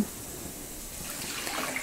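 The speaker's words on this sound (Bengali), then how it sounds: "এখন আমি পানিটা দিয়ে দিচ্ছি" Water is poured into a pan of Bengali rohu fish curry with potatoes and bori, a soft continuous splashing trickle close by.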